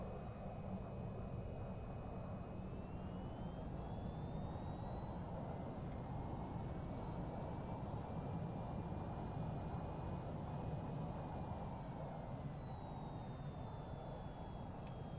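Aircraft engines in the VTOL VR flight game whine as they tilt upward. The whine is a continuous loud drone whose pitch rises slowly and then settles, with no voices over it.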